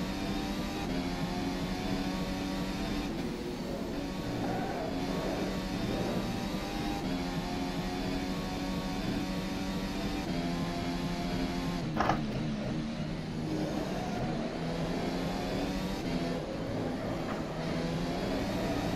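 Formula race car engine in rFactor 2, heard from outside the car as a steady, continuous drone with layered harmonics that hold throughout, punctuated by a brief sharp knock midway, with no talking.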